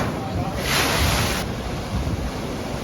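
Stormy ocean waves at night on the shore at Poole, a broad roaring wash of surf swelling briefly and mixed with heavy wind buffeting the microphone.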